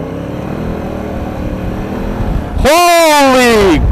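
A 2016 Honda Africa Twin motorcycle idles steadily before its engine suddenly surges loud and close, pitch climbing as it accelerates hard for about a second, then easing off.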